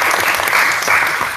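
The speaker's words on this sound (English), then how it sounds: "We get a round of applause for Emily." Loud, close applause fills a student government council meeting room as the group claps for an applicant, a dense, even burst that runs throughout the brief moment.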